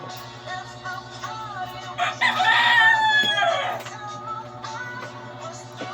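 A gamecock rooster crows once, loud and close, in a long rising then falling call over a steady low electrical hum, with a few faint clucks around it.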